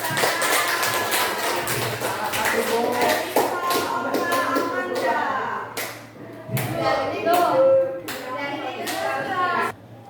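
A group claps in a classroom, a scattered run of sharp hand-claps lasting several seconds with talking mixed in.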